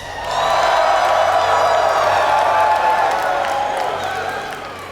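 Crowd at a League of Legends esports event, the Riot World Invitational, cheering and whooping with clapping: a loud, sustained roar of many voices swelling quickly and holding before tapering slightly at the end.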